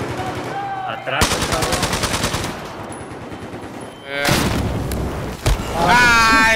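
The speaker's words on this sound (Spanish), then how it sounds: "justo explotó una granadita ahí, viejo" Battlefield 4 combat with sustained automatic gunfire in rapid bursts, followed by a loud grenade blast and more firing, all close and intense with no talk.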